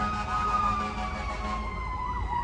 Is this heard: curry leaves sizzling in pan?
no